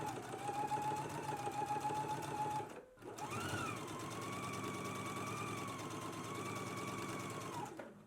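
Sewing machine basting along a narrow garment hem, running in a steady close hum with a short stop near the middle before resuming at a slightly shifting pitch.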